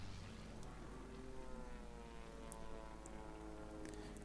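Aircraft engines droning through an air battle in the strategy game Arsenal of Democracy, with British strategic bombers being shot down; a faint, steady propeller hum with a few small clicks, no talking.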